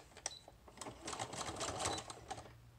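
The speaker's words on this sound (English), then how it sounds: "I'm going to sew that here in the corner." Sewing stitches through packing paper for a handmade journal, sounding as faint rapid mechanical clicks and rattling bursts, quiet and close with no talking.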